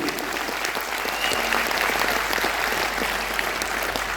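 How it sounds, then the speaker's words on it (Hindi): An auditorium audience claps for the company CEO at a railway auditorium program, a continuous, fairly loud spread of applause from a large crowd, with a faint steady hum beneath. "जोरदार ताली चाहूंगा उनके लिए"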